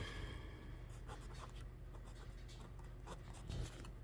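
A Fountain Pen Revolution fountain pen scratches across paper in short, intermittent strokes, quiet and close, with no talking.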